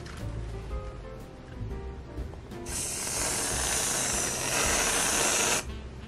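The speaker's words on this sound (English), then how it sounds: "strawberry shortcake is not complete without some whipped cream on top" Whipped cream spraying from a pressurized can onto strawberry shortcake with lady fingers, a steady loud hiss lasting about three seconds after quieter handling sounds.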